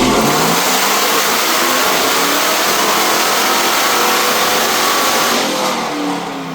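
A supercharged Ford SVT Lightning pickup's engine roars loud and close through a wide-open-throttle dyno pull, a sustained rising rev that eases off near the end.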